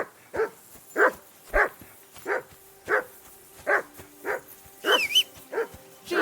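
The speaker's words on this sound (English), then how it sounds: "Jesus, Henry, that barking's driving me nuts." Dog in Kingdom Come Deliverance 2 barking repeatedly in a steady rhythm, about ten sharp barks close by, with a brief higher whine or yelp near the end.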